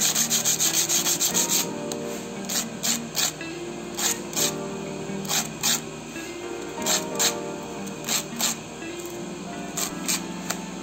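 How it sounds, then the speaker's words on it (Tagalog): Sandpaper rubbed by hand over a steel electric scooter brake pad being resized, a fast run of scraping strokes followed by short rhythmic bursts of sanding repeated steadily, close and fairly loud. "finishing touch, liha."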